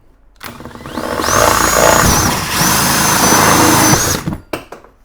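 A power drill whines inside a honey house, spinning up to two long sustained bursts with a short dip between them before winding down, loud and close with no talk.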